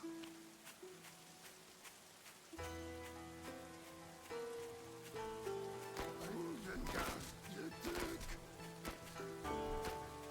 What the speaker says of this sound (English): A little rainy map. Is it raining? Yeah, I got a little bit of rain.